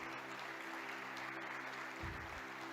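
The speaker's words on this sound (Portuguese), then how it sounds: "Aplaude o teu rei, aplaude." A church congregation applauds during a worship service. The clapping is soft and distant, a steady wash over a low background hum.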